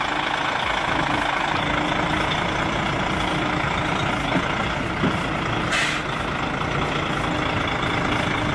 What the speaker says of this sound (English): Watch how he threads that trailer into such a tight space.